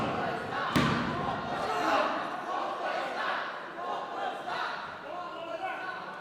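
A wrestler's elbow drop hitting the ring at a No Mercy Wrestling show: one sharp, loud slam early on, followed by crowd noise and commentators talking throughout.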